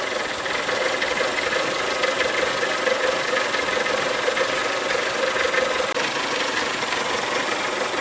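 A 2003 Mazda Protege engine idling with a misfire, a steady mid-pitched running hum with slight uneven knocks, close and continuous with no talk.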